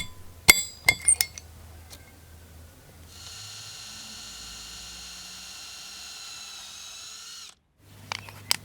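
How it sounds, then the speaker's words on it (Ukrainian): A few sharp metallic clinks, then a steady high-pitched whine of a small drill boring holes in a metal fishing spinner lure for about four seconds before stopping, followed by more light taps. "Свердлимо отвори."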